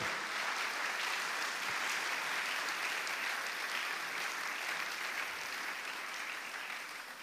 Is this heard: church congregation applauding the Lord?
yes